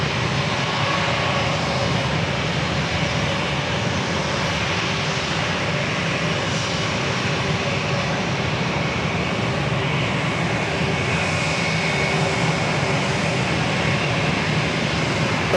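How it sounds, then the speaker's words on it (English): Dreamliner jets taking off and a British Airways 777 arriving at San Diego airport make a continuous, loud broadband roar of aircraft engines that stays steady throughout, heard from a distance outdoors. "To the double Dreamliner takeoff, followed by the British Airways 777 arrival"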